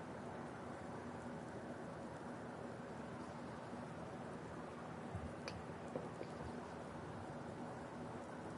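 Steady rain and a thunderstorm at Watkins Glen in an IndyCar racing video game, with a continuous hiss of rainfall and soft distant rumbles throughout, alone and without talking.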